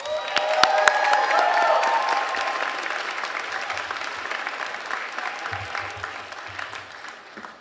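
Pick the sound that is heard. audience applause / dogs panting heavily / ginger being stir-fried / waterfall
audience applause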